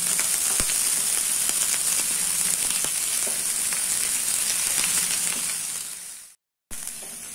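Green chillies and curry leaves frying in hot oil with ginger-garlic paste for a chicken potato curry, a steady loud sizzle and crackle with scattered pops, cutting out briefly near the end before resuming.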